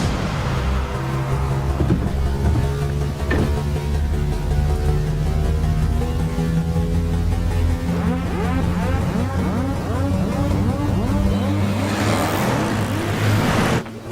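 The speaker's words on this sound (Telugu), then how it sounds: "వదిన స్కార్పియో హాస్పిటల్ లోపలికి వెళ్ళకుండా స్ట్రైట్ గా వెళ్తుంది" A Mahindra Scorpio SUV drives off, its engine loud and close as it revs and pulls away in a long continuous roar with shifting pitch, other traffic noise around it.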